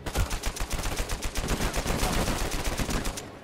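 Rapid automatic gunfire from an enemy in the Uncharted 4 multiplayer beta, a loud steady stream of closely spaced shots running almost without pause.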